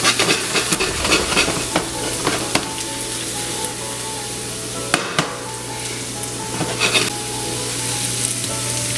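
Onions frying in a hot cast iron skillet, a dense close sizzle punctuated by sharp utensil taps and stirring scrapes, with a low steady hum beneath.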